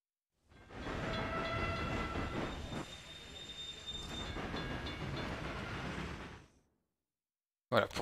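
Trains run in the railway management game Railway Empire, set in Mexico: a sustained rumble of rolling wagons with squealing wheels and tonal whines, fading out after about six seconds, followed briefly by a voice.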